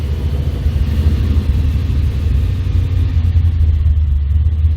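A restored 1955 Chevrolet engine running steadily just after being restarted, a loud, even low rumble close by with no one talking over it.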